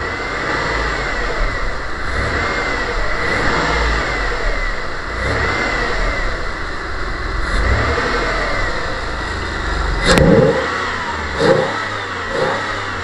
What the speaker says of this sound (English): I normally don't rev my car that high, but just to show you how it sounds.